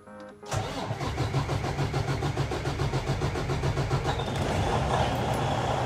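Freightliner Cascadia with a DD15 diesel engine fires up after an oil change: a short cranking burst, then a steady, loud, rhythmic idle that stays close and continuous with no talking.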